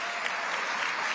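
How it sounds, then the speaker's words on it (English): Brief burst of audience clapping for Food Link at a governor's rally, a dense, even patter of many hands at moderate volume with no talking. "let's give Food Link an amazing round of applause"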